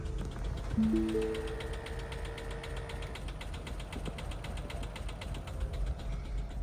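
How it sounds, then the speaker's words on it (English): Rapid, even mechanical pulsing of a hybrid car's engine turning over steadily without catching, with a few brief tonal whines early on; no speech. "Constantly cranking, but no start."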